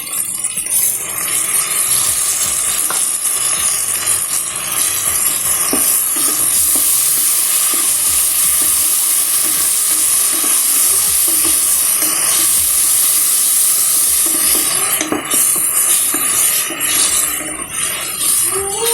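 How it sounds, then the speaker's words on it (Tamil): Garlic and ginger sauté in a pan with a loud, continuous hissing sizzle close by, with occasional faint scraping from stirring and no talk. "கொஞ்சம் பூண்டு போட்டு பச்சை வாசனமோ வதங்கிட்டு இஞ்சி இஞ்சி பூண்டு போட்டு கொஞ்சம் வதங்கிருச்சு"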